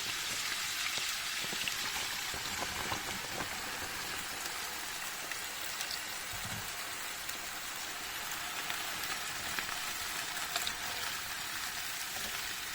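Leeks sautéing in a pan, giving a continuous, soft, even sizzle like light rain, steady throughout with no talking.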